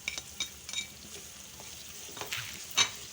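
Green chili paste and chopped onion fry quietly in a beef karahi, a soft low sizzle with scattered stirring clinks and scrapes of a utensil against the pan.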